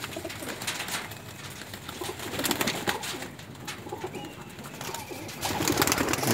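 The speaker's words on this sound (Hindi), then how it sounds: "बिलाल भट्ट साहब के कबूतर दिखा रहा हूँ इस वक्त" High-flying pigeons from a breeder's flock coo outdoors, a low soft murmur repeating steadily with scattered brighter bird sounds, moderately loud and close throughout with no talking.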